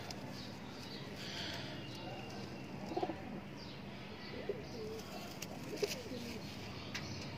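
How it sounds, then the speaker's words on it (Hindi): A highflyer pigeon coos softly a few times, in brief scattered calls over a low, steady background murmur. "ये टोटल कबूतर है।"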